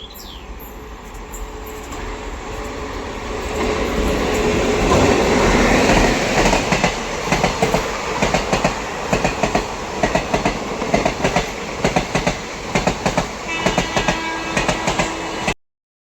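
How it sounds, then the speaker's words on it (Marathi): A train passes through Vijayanagar station, a loud rolling rumble that builds and then settles into a steady clickety-clack of wheels over rail joints with occasional squeal, close by and continuous. "तुम्ही बघितला रेल्वे आता गेलेली आहे"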